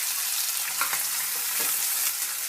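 Finely chopped onions sizzle in hot oil in a pan, with a steady, close hiss and a few brief stirring scrapes, with no talk over it.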